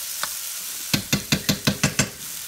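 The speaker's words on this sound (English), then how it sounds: "it looks like I'm cooking beef over here right now" Plant-based Impossible taco meat fries in a pan while it is stirred, giving a soft sizzle with a run of about seven quick, evenly spaced scraping strokes.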